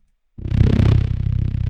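A low, buzzing synthesized lightsaber hum, without its noise layer, starts abruptly and holds steady with a slight pulsing throb, thick and distorted.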